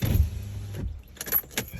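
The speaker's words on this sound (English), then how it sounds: "let me just roll this window down real quick" A car window rolls down in one short motorized whir inside the vehicle, with a low engine rumble underneath and a few light clicks and rattles near the end.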